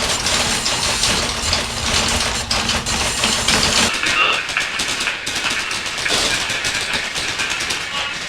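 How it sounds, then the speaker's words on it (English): Office typing from the Half-Life 2 Beta game: a dense, continuous patter of keyboard clicks runs the whole time with a steady mechanical clatter, fairly loud and close, with no voices. "The office sounds are just typing."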